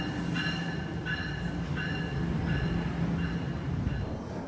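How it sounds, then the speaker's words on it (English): A train pulling into a station, a steady rolling rumble with a regular series of bright squeals and clicks from the wheels as it slows, close and continuous. "There's my train, gotta go."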